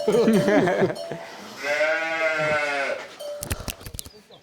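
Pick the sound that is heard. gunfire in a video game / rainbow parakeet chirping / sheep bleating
sheep bleating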